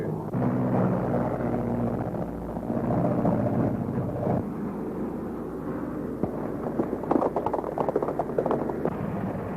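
A continuous low engine roar with a droning, rumbling texture, steady throughout and fairly loud, like an aircraft running nearby.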